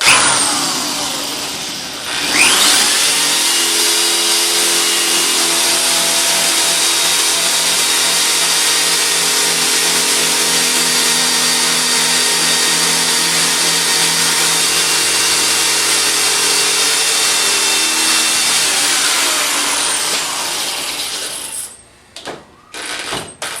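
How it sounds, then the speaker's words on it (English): A power drill with a carbide bit whines steadily for about twenty seconds, grinding through a steel Medeco high-security lock cylinder at close range, then stops and a few clicks follow. "with a good carbide bit, that's pretty simple to drill through."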